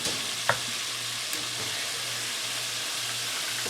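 Shrimp fry in a pan of hot oil with a continuous, even hiss and a low background hum, broken by a couple of faint knocks near the start.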